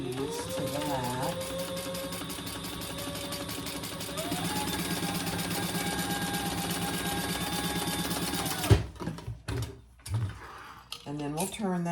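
A sewing machine runs steadily as pieces for a Pachira bag are stitched together, a continuous motorized whir lasting several seconds before stopping abruptly, followed by brief handling clatter; a voice talks over it.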